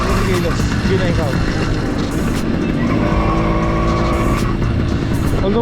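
A 49cc two-stroke motorized bicycle engine pulling in second gear on a road ride, a loud, buzzy, continuous rasp with a rising pitch, with someone talking over it.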